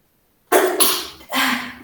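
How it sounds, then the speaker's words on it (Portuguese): One person sneezes indoors in a short burst with a sharp onset after silence, followed by a second explosive exhalation, both close and loud, with no talking. "Desculpa, eu me espirrei agora."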